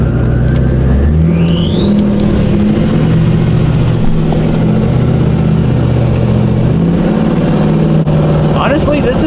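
Loud engine of a lifted Duramax diesel pickup truck driving close by, a low rumbling drone with a rising whine as it revs and shifts.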